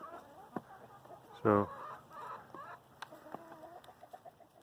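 Chickens cluck softly nearby in scattered short calls, with one louder squawk partway through.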